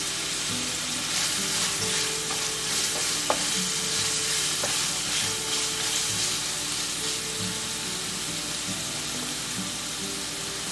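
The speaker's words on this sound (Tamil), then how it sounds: "இதில் ஒரு கொத்து கருவேப்பிலை இலை சேர்த்துக்கோங்க." A sprig of curry leaves sizzles with softened onions in hot oil in a kadai, a constant close frying crackle with intermittent scrapes and taps of a stirring spoon, no voices.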